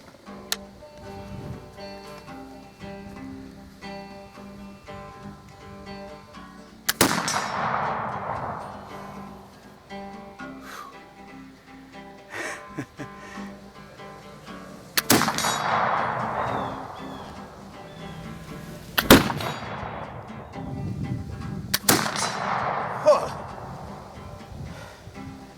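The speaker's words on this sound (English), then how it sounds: "Let's load it back up." Metallic clangs and ringing strikes sound while a flintlock rifle is reloaded for deer season, with a few sharp hits spaced seconds apart over quiet ticking and handling noises, close and alone without talk.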